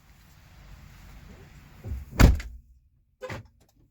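A door is shut with a loud single thud after a brief scrape, followed by a softer knock a second later, in a quiet indoor space.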